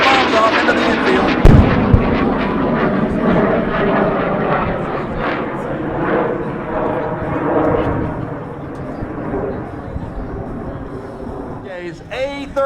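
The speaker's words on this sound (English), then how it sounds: "Take a look as Mark drops some bombs off into the infield." An A-37 Dragonfly jet at an airshow dropping bombs into the infield, a roaring engine pass with a sharp explosive thump early on, and a loud announcer talking over the noise throughout.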